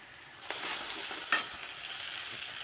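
Ground masala paste fries in oil for a homemade chole curry, with a quiet hissing sizzle and a couple of brief scrapes of a spoon in the pan.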